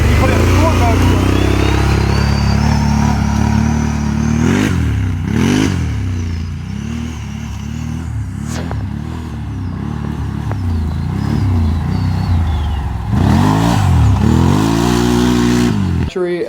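2021 Can-Am Maverick XMR on 33-inch Aztex tires revving hard during wheelie attempts, with repeated loud rising and falling engine surges, close by, mixed with clatter.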